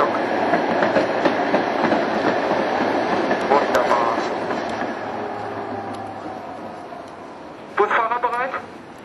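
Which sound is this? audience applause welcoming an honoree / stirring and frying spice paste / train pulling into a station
train pulling into a station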